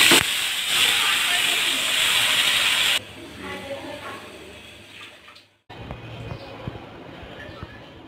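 Marinated meat hits hot oil over fried onions in a pot, and a loud, broad hissing sizzle runs for several seconds before dropping to a quieter crackle, with a short break and then more sizzling.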